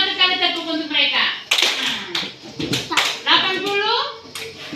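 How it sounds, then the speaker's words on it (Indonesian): A classroom of children claps in unison during a grade-reading session, sharp clap hits landing amid lively child chatter and a teacher's voice that run throughout. "1 kali tepuk untuk mereka."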